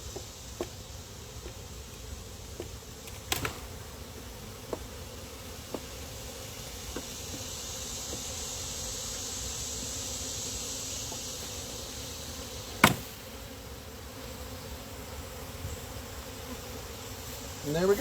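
Honey bees buzz around a hive being split, a steady soft drone throughout with faint clicks and knocks from handling, fairly quiet and close.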